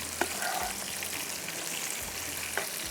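Kasuri methi and tomatoes frying on high flame for a mutton darbari masala, a continuous dense sizzle with a few light clicks and low thumps of a utensil, close and steady with no talking.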